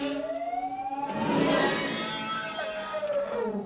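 A drawn-out, wailing Star Wars krayt dragon call in its original version, with rising and falling pitch, loud and close, swelling in the middle and fading into a long moan.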